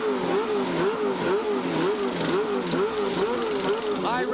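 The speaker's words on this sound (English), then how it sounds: "High revs from the engine" A 1991 CART IndyCar, Arie Luyendyk's car, revs high on pit road at the Phoenix Grand Prix during a fuel stop. The engine note rises and dips in a repeating wavering pattern, loud and close, with a sharp rising rev at the very end.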